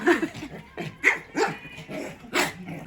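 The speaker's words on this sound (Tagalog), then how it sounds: "Maingay na aso. Pomeranian yan, nakagupit lang." A small, freshly groomed Pomeranian yaps in quick, high-pitched barks, four or five sharp bursts close to the microphone.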